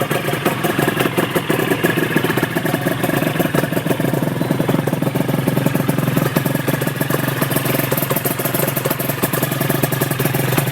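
A Honda NSR250 MC21 two-stroke motorcycle idles close by, its engine putting out a loud, steady, rapid rattling burble with slight unevenness that carries on without pause and without any voices.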